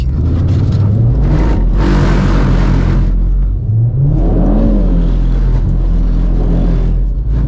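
A 2022 Audi RS3 Sportback with a 400 hp engine pulls away hard, its loud engine climbing through rising revs, pausing briefly at a gear change, then accelerating again close by.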